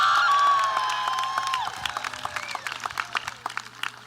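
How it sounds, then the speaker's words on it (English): Graduating class of 2022 at a graduation ceremony gives a round of applause, scattered clapping rising in the hall after a held tone fades, sparse claps and crowd noise continuing at moderate level. "Give yourselves a round of applause."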